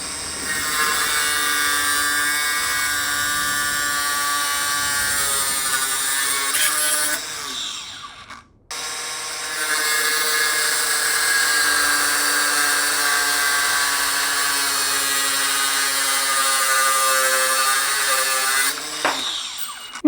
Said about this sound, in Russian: у вас оказалась при себе вот такая вот маленькая болгарка